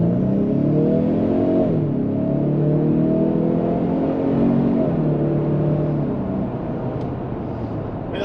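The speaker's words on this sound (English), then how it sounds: "Let's go ahead and see what it feels like in normal mode accelerating." A 2023 Ford Explorer Timberline accelerating in normal mode, heard from inside the cabin as a steady, rising engine drone with shifting harmonic tones that climb, drop at gear changes, and climb again, loud and continuous with no talk.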